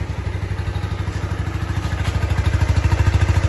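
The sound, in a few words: motorcycle stock exhaust idling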